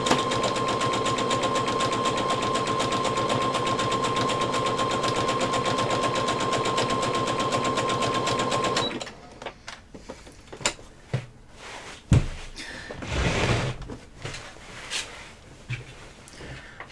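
A sewing machine stitches a seam in a fast, steady, even whir for about nine seconds, close and loud, then stops, leaving scattered handling clicks and rustles of fabric.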